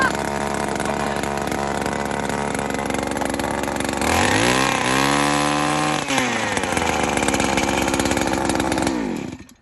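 A two-stroke gas ice auger screams steadily at high revs, loud and close, with a surge and strain midway as it bores into lake ice in Maine, then cuts off abruptly.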